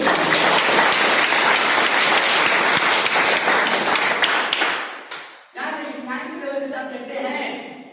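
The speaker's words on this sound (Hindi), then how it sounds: "एक बार जोरदार तालियां हम दुबई।" A business-meeting audience in Dubai bursts into loud, dense applause that fills the room for about five seconds, then stops abruptly as a voice resumes speaking over a faint background.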